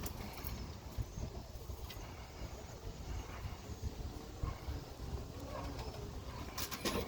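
Birmingham roller pigeons outdoors on a windy day, with faint intermittent cooing half-buried under constant wind rumble and a distant passing car.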